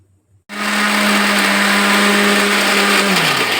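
Kitchen mixer grinder finely grinding ragi burfi ingredients with cloves and cardamom, starting abruptly and running as a loud, steady, continuous whir that sags slightly in pitch near the end, with no talking.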